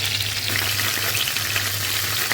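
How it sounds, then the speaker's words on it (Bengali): Steady, close sizzling and crackling of chicken pieces frying in a pan, with a constant low hum underneath and no voices. "ভেজে নেব এখন।"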